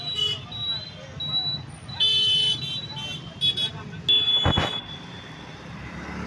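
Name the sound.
highway traffic with car horns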